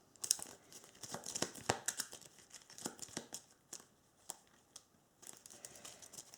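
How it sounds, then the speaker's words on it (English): Playing cards for the tabletop card game Apocrypha are shuffled by hand, giving a series of crisp, papery riffles and flicks in uneven bursts, fairly close and fairly quiet, with no voices. "These three get shuffled into our Nexus."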